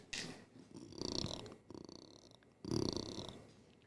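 A person imitates a cat's purr with the voice, three rough, rumbling bursts of throaty vibration separated by short pauses, fairly close and moderately loud with no speech.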